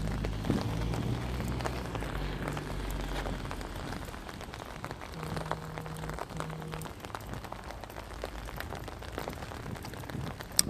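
Steady rain falling and pattering on surfaces on a rainy Monday, a constant close hiss with scattered drips and a low hum beneath, no voices.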